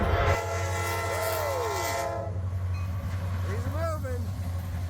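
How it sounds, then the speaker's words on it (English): A train rumbles past nearby with a continuous low roar, and a horn sounds in rising and falling blasts over the din. "There's a train"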